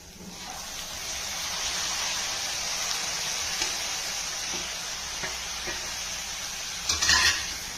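Tomatoes stirred into softened onions frying in a pan, producing a steady sizzle with occasional scraping clicks and a louder stirring clatter near the end.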